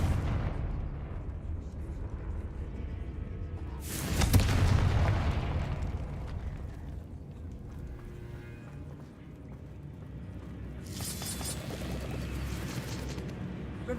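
Confringo blasting spells going off in Hogwarts Legacy, two fiery explosions with bright bursts a few seconds apart, over quiet game ambience with faint talk.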